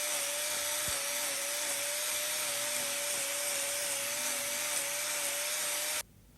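A power tool grinds steadily as it trims an overgrown claw on a cow's hoof affected by laminitis, a loud, continuous whine holding one pitch before cutting off abruptly near the end.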